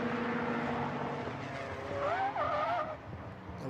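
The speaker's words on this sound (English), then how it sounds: "You heard the screech of tyres." During a Ginetta GT race at Snetterton, a car's tyres squeal briefly under braking as a wheel locks up, a short wavering screech above the steady roar of race engines, faint and heard at a distance.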